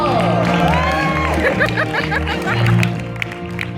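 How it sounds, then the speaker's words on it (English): Audience applause and cheering for a performer aboard a cruise ship, a dense crowd sound with a sustained tone running underneath that fades toward the end. "One more round of applause there from Dragon from the Spa!"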